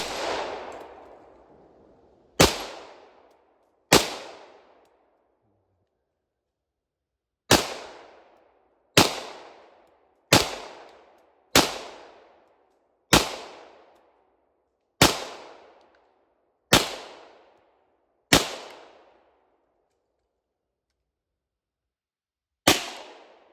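Twelve loud, sharp shots from a Glock model 40 10mm pistol at an outdoor range, each with a short ringing decay. The shots come at uneven intervals of about one to three seconds, with a longer pause early on.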